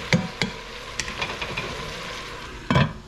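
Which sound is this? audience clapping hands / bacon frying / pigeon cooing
bacon frying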